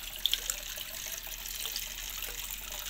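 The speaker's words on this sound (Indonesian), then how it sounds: "Ada air terjun ke sini jalannya." Small waterfall trickling and splashing into a homemade guppy pond, a steady soft wash of running water with a few brief splashy accents, no voices.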